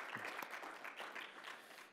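Brief, quiet applause from the audience at a sports analytics conference panel, a soft patter of clapping with a few distinct nearby claps, sounding somewhat distant.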